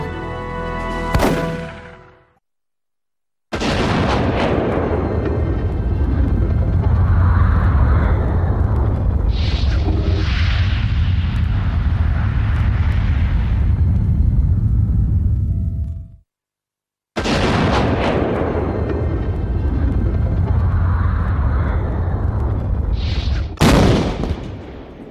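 Loud shotgun blasts going off one after another, each a heavy booming report with a long rolling tail. Two brief silences split the sequence, and a final sharp crack lands at the end.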